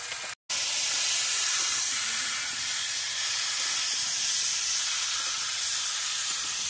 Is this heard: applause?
no